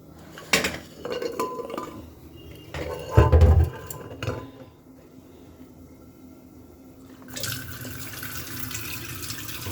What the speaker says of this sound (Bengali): এবার জল দিয়ে সেদ্ধ বসিয়ে দেবো